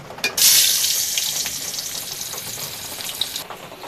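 Shrimp with turmeric, chili powder, cumin and salt hits hot oil with onion, sending up a sudden loud sizzle that settles into softer, steady frying with a few crackles.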